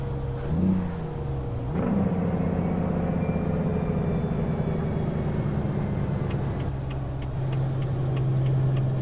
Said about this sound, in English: Let's do some Jake brake here